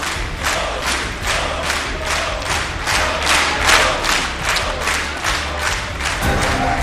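Applause and cheering from members of the Israeli parliament for the Prime Minister after his address, a dense, steady roar of clapping filling the chamber throughout.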